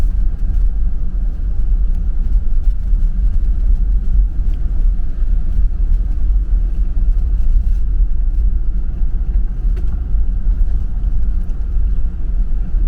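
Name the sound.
four-wheel drive vehicle driving on dirt gravel road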